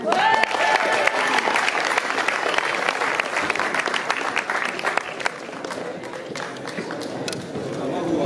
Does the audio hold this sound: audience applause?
yes